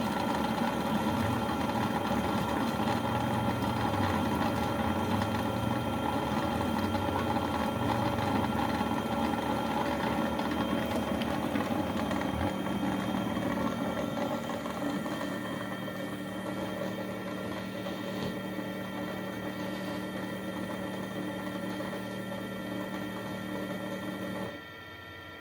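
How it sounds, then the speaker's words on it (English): The Yeedi Mop Station Pro's pumps run in a continuous mechanical hum with a buzzing vibration, loud and steady and close by, stopping abruptly near the end. "The pumps actually shake my floor a little bit."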